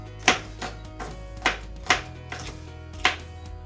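A small slicing knife chops food on a cutting board for meatloaf, with about seven crisp, close, irregularly spaced thuds over a quiet background, unaccompanied by talk.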